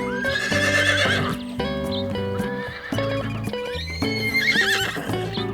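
Several horse neighs and whinnies ring out in bursts, close and loud, with a faint clip-clop of hooves and continuous backing music underneath.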